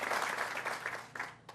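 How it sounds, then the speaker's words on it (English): Audience applause for a state assembly speaker at a Hispanic Heritage Month celebration in New York, a short, moderately faint burst of clapping that tapers off. "let's give it applause"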